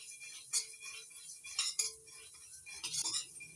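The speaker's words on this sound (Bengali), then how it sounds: "পোস্ত দানাটা অনবরত নাড়াচাড়া করে 2 থেকে 3 মিনিট ভেজে নিচ্ছি।" Poppy seeds being stirred and dry-fried in a pan over a low gas flame, heard as faint, scattered metallic clinks and scrapes of a spoon against the pan, with a few brighter taps and no voices.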